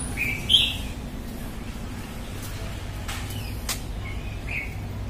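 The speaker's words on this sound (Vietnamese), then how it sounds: "Ở đây người ta nuôi chim, do đó bạn nghe tiếng chim hót suốt ngày." Caged pet birds chirp from the roadside along a city street in District 5, Ho Chi Minh City, with a few faint, brief tweets standing out over steady low traffic rumble.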